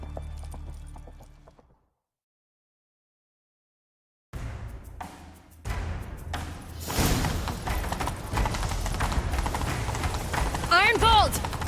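In The Witcher 3, silence gives way to thudding hoofbeats of a galloping horse, growing denser and louder, with voices calling over them and a brief whinny near the end.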